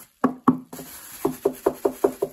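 Knuckles rap on a custom-built wooden guitar speaker cabinet: two firm knocks, a pause, then a quick steady run of six more, close and hollow-sounding.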